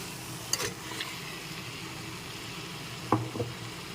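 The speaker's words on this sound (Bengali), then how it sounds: "এবার আমি এর মধ্যে ম্যারিনেট করা চিকেনটা তুলে দিচ্ছি" Marinated chicken dropped into a hot pan of poppy seed paste, giving a low steady sizzle with two sharp clatters of stirring or contact, one early and one late, with no one talking.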